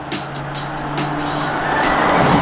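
A race car on a track lap, its engine droning steadily and rising as throttle is added, loud and close with a faint whine layered on top.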